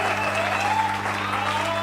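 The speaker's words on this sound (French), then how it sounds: "Applaudissons pour le Seigneur Jésus-Christ." A church congregation claps together during a French-language service, a dense, steady burst of applause that fills the room with an underlying hum beneath it.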